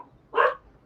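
A single short dog bark sounds once, fairly soft and isolated against a quiet room in an artist's studio, with no talking over it.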